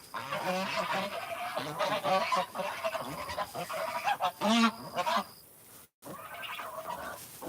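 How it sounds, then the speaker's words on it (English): A flock of hungry geese on a farm honks and cackles nearby in a busy, overlapping chorus, pausing briefly before a few more calls. "Those geese are hungry."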